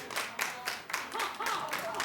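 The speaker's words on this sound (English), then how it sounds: "Clap if you watched Lindsay on OWN last night." A studio audience on a daytime talk show claps together in a dense, steady burst of applause. A few brief voiced cries rise above the clapping partway through.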